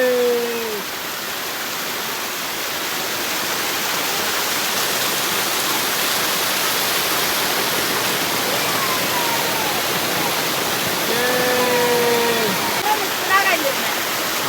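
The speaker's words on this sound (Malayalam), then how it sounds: "നാട്ടിലെ വെള്ളച്ചാട്ടം ഇതാ കണ്ടോളി കണ്ടോളി" A village waterfall deep in a forest roars as a steady, loud broadband rush of falling water throughout, with a voice talking over it at the start and again near the end.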